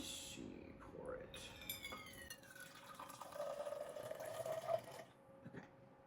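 Coffee flowing from a pot into a travel mug, a quiet, close trickle whose pitch climbs steadily as the mug fills, tapering off after about five seconds with faint room noise.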